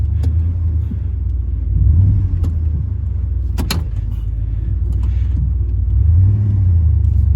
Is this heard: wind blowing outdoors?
no